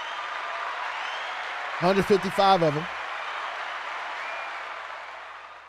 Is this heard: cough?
no